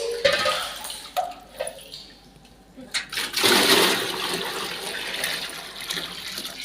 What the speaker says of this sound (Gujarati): ટાંકામાંથી પાણી સીંચું છું